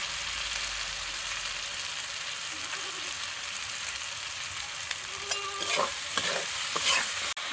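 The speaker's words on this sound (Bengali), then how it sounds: "মশলা কষানো হয়ে গিয়েছে মশলা থেকে তেল ছাড়ছে" Spice paste with tomatoes and salt frying in oil for a fish curry, a steady quiet sizzle with stirring scrapes that grow into sharper crackles and pops toward the end.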